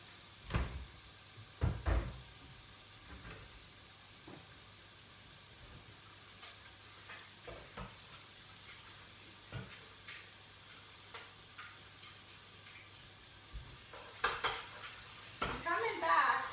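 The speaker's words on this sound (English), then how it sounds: "You guys just enjoy the sizzling beef while I go wash my bowl" Beef sizzles quietly in a pan as a soft, steady hiss, broken by occasional clinks and knocks of kitchenware.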